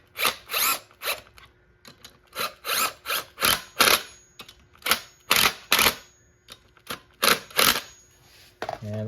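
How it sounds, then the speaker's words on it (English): A hand ratchet tightens 12 mm bolts on a Subaru STI engine during a rebuild, giving close, loud bursts of rapid clicking in short strokes with brief pauses between them, and no talk. "Let me just throw on these 12 mil bolts and start them off, ratchet them on there."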